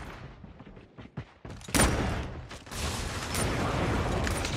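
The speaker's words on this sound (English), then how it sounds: "Oh, friggin' grenade." A grenade goes off in a first-person shooter match: a sharp, loud blast hits partway through, followed by a sustained roar of rumbling debris and gunfire that stays loud to the end.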